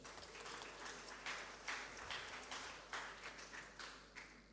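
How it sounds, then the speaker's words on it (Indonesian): Congregation clapping at a year-end church worship service, quiet and distant, with rippling waves of hand claps over a low steady hum. "Tepuk tangan dulu untuk kita ruas."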